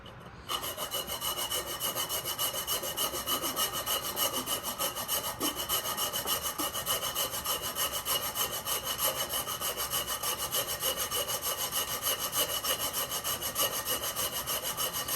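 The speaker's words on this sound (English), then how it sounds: "let's grate some of the nutmeg in here." Whole nutmeg scraped against a grater in a steady, fast, rasping rhythm up close, continuous for the whole stretch without a break; no talking.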